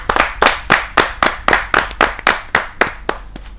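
An audience at a kavi sammelan poetry gathering claps to welcome a poet, giving about fourteen sharp, evenly spaced claps in a steady rhythmic beat, loud and close, with no talk.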